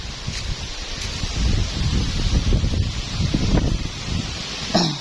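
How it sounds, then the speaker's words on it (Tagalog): Strong wind gusts through rustling leaves and buffet the microphone in a continuous roar, with no talking. "malakas yung hangin"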